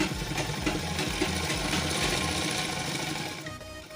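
A sewing machine stitches a salwar seam in one steady close run, its motor humming under a fast, even needle clatter that eases slightly near the end.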